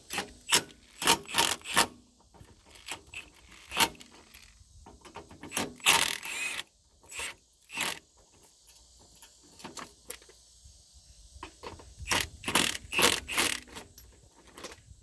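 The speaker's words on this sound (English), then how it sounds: "We're going to back this retaining nut here off so we can make some adjustments." A wrench works a retaining nut on a Lippert hydraulic RV slide-out, making quiet ratcheting clicks and metallic scrapes in short bursts separated by pauses.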